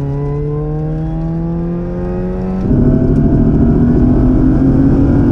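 A V6-swapped Mazda MX-5 Miata accelerates hard, its loud engine tone climbing steadily, then jumping to a harsher, fuller roar as the revs continue to build, with no voices over it.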